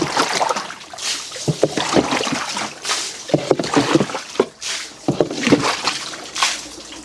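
Water is scooped out of the hull of a Sea-Doo Fish Pro watercraft, giving close, repeated sloshing scoops and splashy pours in an irregular rhythm.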